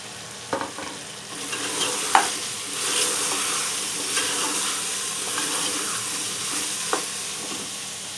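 Dry spices being stirred into mutton cooking in ghee for dhuwan gosht, with a continuous hissing sizzle and a few sharp clinks and scrapes of a spoon against the pot, close up with no talk.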